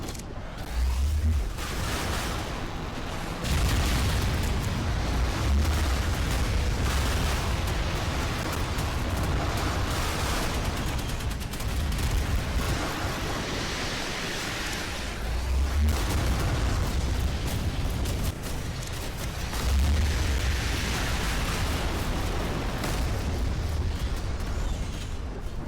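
Monarch cannon on a warship in the naval combat game Modern Warships, firing heavy booming shots in a repeating cycle of a few seconds, deep thuds over a constant rumbling battle din.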